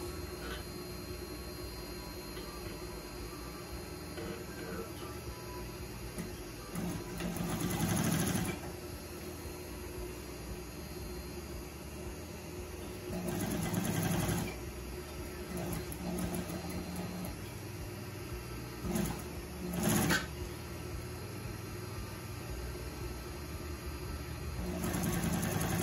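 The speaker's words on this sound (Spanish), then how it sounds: "Cosemos." A sewing machine stitching a shirt seam runs as a steady close mechanical hum, with a few louder bursts of faster stitching standing out over the constant drone. No one speaks.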